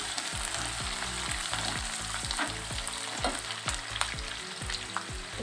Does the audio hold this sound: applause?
no